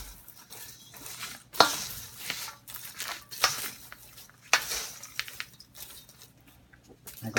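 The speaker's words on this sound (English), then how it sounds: "And keep mixing as it cools." Salted kettle corn being tossed and mixed as it cools, with irregular crunchy rustles and scraping bursts of kernels against a bowl, fairly close and moderately quiet, no talking.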